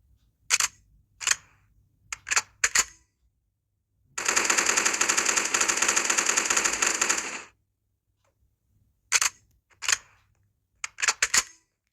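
Bursts of gunfire from a gun mod in the Minecraft video game: several short separate volleys, then a sustained automatic burst of about three seconds, then more short volleys, loud and alone with no talk.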